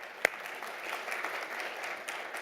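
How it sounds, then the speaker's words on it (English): A conference audience gives a soft round of applause, steady and fairly distant clapping sustained for a couple of seconds with one sharper clap near the start. "Maybe I'll ask you for a round of applause on that."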